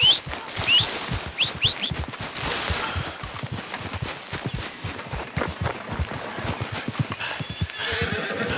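Horse in Red Dead Redemption 2 whinnying loudly near the start, followed by steady clip-clopping hooves trotting close by, with faint bird calls in the background.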